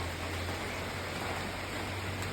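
Light drizzle falls at a duck farm: a soft, continuous hiss of rain throughout, steady in level, with a faint low hum beneath and no voices.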